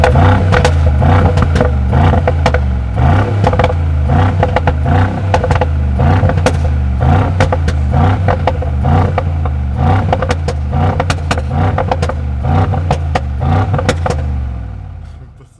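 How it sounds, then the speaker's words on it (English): A 2022 Mercedes G63 4x4² engine and exhaust revving in Sport Plus mode, loud deep throbbing bursts with crackling pops, close and rhythmic blips repeating for about fifteen seconds before cutting off. "show how cool the G63 sounds in a new body in Sport Plus mode and exhausts"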